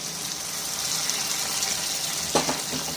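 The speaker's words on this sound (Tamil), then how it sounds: "சுடுதண்ணியை ஊற்றிக்கிறோம்" Hot water poured into a cooking pan of simmering tomatoes and peas gives a steady, close, even rushing splash for about three seconds, with a brief stronger gush near the end.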